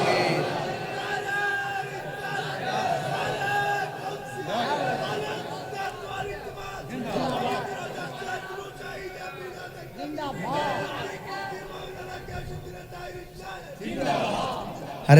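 A large crowd at an Islamic sermon gathering roars back in unison to a takbir call, loud overlapping voices swelling in waves and continuing for many seconds.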